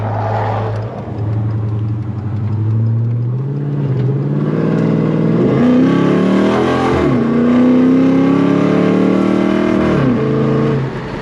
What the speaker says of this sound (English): With the windows down so you guys can hear the sound of the Hemi.